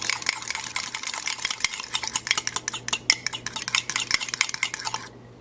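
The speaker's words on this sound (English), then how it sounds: "So I have my egg broken, and now I'm going to stir it." A broken egg whisked briskly in a bowl, rapid rhythmic clicks and scrapes of a utensil against the side, close and steady for several seconds before stopping abruptly.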